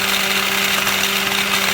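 A small blender or food processor whirs steadily at close range as it roughly chops onions, a constant motor drone with no pause.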